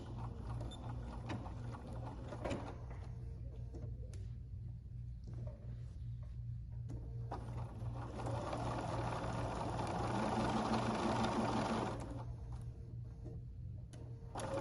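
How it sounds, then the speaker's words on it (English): A sewing machine sews a tacking stitch on quilt binding, with a steady low mechanical hum and ticking that swells into a denser whirring run near the end. "start a 1/4 inch in and do a little tacking stitch"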